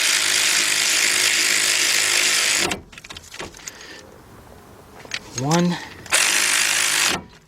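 A large ratchet with a 14 mm shallow socket tightens the caliper bolts on a 2013 Jeep Patriot. It gives two loud, close bursts of rapid clicking with a short pause between them, and a voice speaks briefly in the gap.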